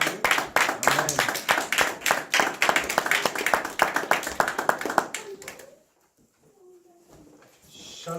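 Audience in a church gathering claps and applauds together to welcome Frère Christian, a dense, loud burst of hand claps lasting about five seconds before cutting off into near quiet with faint voices.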